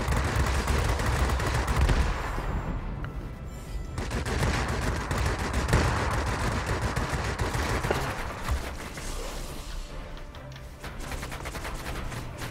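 Aircraft machine guns in World of Warplanes, a Tempest fighter: continuous rattling bursts of gunfire over steady engine roar, loud and close throughout.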